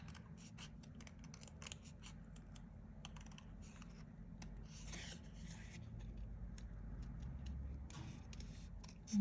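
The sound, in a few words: scissors trimming curves on a card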